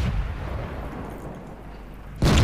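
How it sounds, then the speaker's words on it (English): AP and HE tank shells fired in World of Tanks, a heavy boom decaying into a low rumble, followed by another sharp loud blast at the end. "We're firing AP and HE shells at them."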